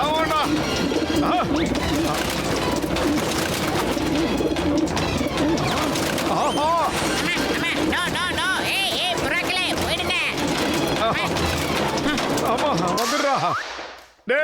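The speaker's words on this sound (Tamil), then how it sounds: "எங்க வீட்டுல புறாக்கள்லாம் வந்து தொந்தரவு பண்ணிக்கிட்டு இருக்கு" Pigeons cooing inside a house in a cartoon scene, a dense layered soundscape of bird calls and busy background sound running steadily throughout, then cutting out abruptly near the end.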